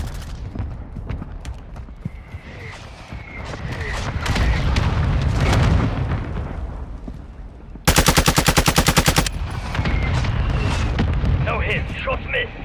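An airstrike in the Warzone video game, with sustained rumbling explosions and booms, then a rapid, loud burst of machine-gun fire, followed by more blasts and rumbling, with a voice talking over it.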